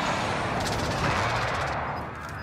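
Dense automatic gunfire from a battle-royale shooter game, a steady close rattle of rapid shots with faint game voice chatter mixed in, easing off slightly near the end.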